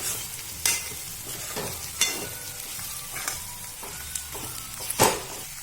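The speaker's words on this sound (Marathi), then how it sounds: "नीट परतून घ्यायचं" Grated snake gourd with turmeric and village-style chutney sautéing in a pan for padwal bhaji, a steady close sizzle broken by regular scraping stirs roughly once a second, with no talk.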